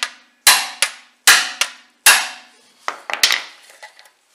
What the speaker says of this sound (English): But it's worth giving it a few taps.